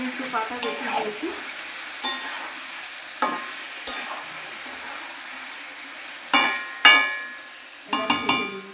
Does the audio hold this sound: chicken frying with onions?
yes